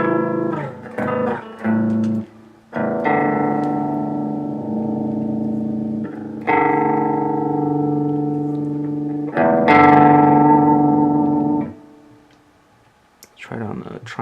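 Guitar run through an Electro Harmonix Stereo Pulsar tremolo pedal, a few short plucked notes followed by several long ringing chords whose volume wavers, separated by brief gaps, ending in a quieter tail.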